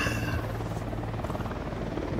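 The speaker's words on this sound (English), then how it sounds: "Should I take out the helicopter again? If you want. Or you can just let it pass." A helicopter in the video game Ghost Recon Wildlands thrums overhead as a steady, dense rotor roar that fills the whole moment at a constant level.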